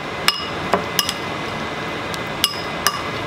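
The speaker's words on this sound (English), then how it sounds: "I'm just going to stir it up." A spoon stirs shrimp roll filling in a bowl, striking the rim with about eight sharp, bright clinks at irregular intervals over a steady low background hiss, close and alone without speech.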